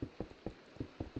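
Acid rain in a Minecraft server falls as scattered, irregular soft patters, several distinct drop-like thuds over a faint hiss, with no voices.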